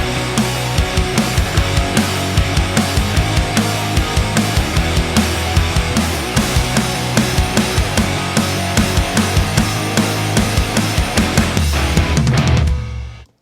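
A full band plays a pop song's second chorus with the drums in a double time feel, driving and loud, ending in a brief fade.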